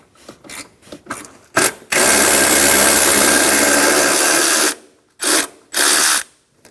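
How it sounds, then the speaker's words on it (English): A ratchet with a 10mm socket removes the nut on the back of a Toyota Highlander windshield washer bottle, with short clicking strokes near the microphone, a long sustained whir, then two more brief bursts. "Using a 10mm socket, we're going to remove the nut on the back of the washer bottle."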